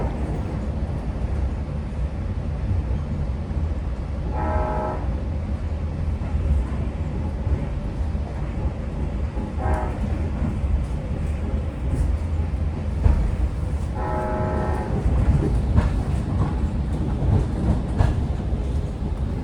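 Long Island Rail Road train led by diesel DE30AC #413 rolling steadily toward Speonk, with a continuous low rumble and rail noise throughout and a few brief mid-pitched squeals or clanks; no talk.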